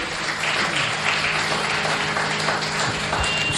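Audience at a religious devotional gathering breaks into applause, a dense wash of many hands clapping together, continuous and moderately loud for several seconds.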